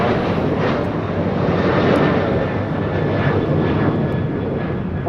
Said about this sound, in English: This is United Airlines 1374 taking off to Denver, Colorado on a 737-900ER.